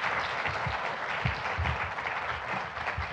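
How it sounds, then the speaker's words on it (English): Audience applause at an opening lecture of a bulb show, a dense, steady wash of many hands clapping from a crowd, sustained evenly throughout without speech. "Let's give Eric one more round of applause, please."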